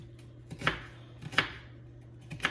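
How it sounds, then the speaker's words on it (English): Onions diced with a knife on a cutting board, heard as three sharp, close chops spaced roughly evenly apart, quiet and alone with no talking. "let me dice up these onions real quick"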